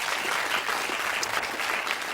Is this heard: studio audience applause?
yes